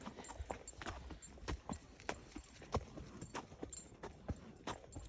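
Fjord horse in training walking under a rider, hooves clip-clopping in an even, unhurried rhythm, close and fairly quiet with no talk.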